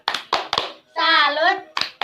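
Schoolchildren in a second-grade classroom do a 'tepuk salut' clapping chant: crisp rhythmic hand claps, a sustained group shout in the middle, then more claps.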